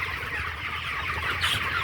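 Chickens on a poultry farm housing around 760 birds, their soft clucking and chatter steady and continuous at moderate distance, blending into a busy flock murmur.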